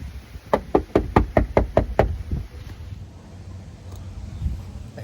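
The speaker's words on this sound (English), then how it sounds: "It says knock really loud." Someone knocks hard on the door of a house, eight quick, loud raps in a steady rhythm, followed by a couple of softer thumps against quiet outdoor background noise.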